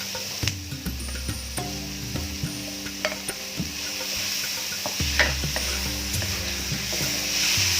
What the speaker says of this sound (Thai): เราจะผัดเขาให้หอมก่อนค่ะ